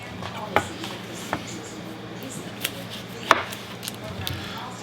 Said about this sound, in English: I'm going to cut the ends off,